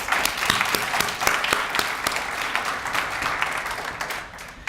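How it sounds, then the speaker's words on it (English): An audience at an awards ceremony applauds, sustained clapping with sharp individual claps standing out, steady for several seconds before starting to thin out. "let's give these partners a big round of applause"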